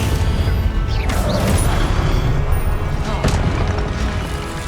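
Confringo explosion spell cast in Hogwarts Legacy, a dense, loud burst of booming crackle and rumble that fills the short stretch, with sharp transient hits and no voices.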